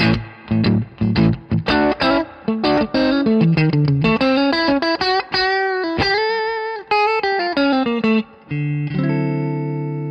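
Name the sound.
Stratocaster electric guitar, two pickups selected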